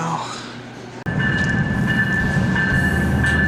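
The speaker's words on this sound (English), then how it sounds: "Arriving right now is the Portland section of the Empire Builder." Amtrak's Empire Builder passenger train, Portland section, pulls into Portland Union Station in Oregon, a sudden loud rumbling roar after a clunk with a steady high tone running through it, close by, with faint speech near the start.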